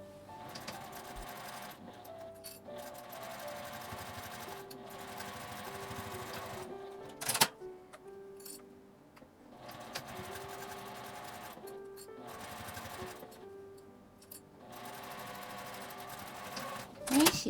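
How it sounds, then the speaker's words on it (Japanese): A sewing machine stitches both ends of a small fabric pouch with a 1 cm seam allowance, running in long steady bursts with brief pauses between them, close and continuous. "両端を1センチの縫い代で縫います。"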